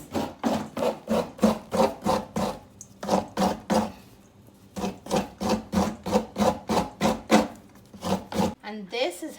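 Fresh coconut rubbed hard against a grater makes a close, rhythmic rasping scrape, stroke after stroke in quick even bursts, pausing once before resuming.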